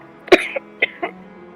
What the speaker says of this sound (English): Her insane laughter turned into a painful cough.